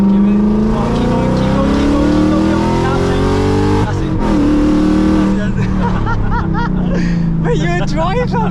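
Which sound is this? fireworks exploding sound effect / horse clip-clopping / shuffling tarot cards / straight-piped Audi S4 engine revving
straight-piped Audi S4 engine revving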